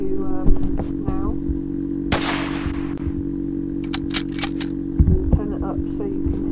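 French gun fired in the video game World of Guns: one loud, sharp report followed by a decaying burst of noise, then several short crisp mechanical clicks, over a steady hum of background game audio.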